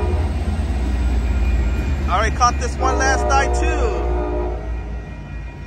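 Amtrak Capital Corridor train hauled by an F-59PHI locomotive passing Jack London Square in Oakland, with a steady low rumble throughout and a brief horn-like tonal burst in the middle; someone talks over it.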